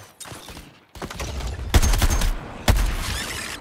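Gunfire from Suicide Squad Kill the Justice League gameplay: loud bursts of rapid shots, with three heavy booming volleys near 0.9, 1.75 and 2.7 seconds, each trailing into sustained rattling fire.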